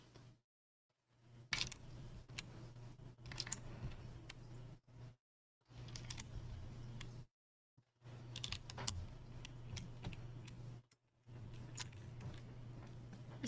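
Keys clack on an Athena 75 mechanical keyboard fitted with new keycaps, quick bursts of close, crisp typing separated by short pauses, over a faint steady hum.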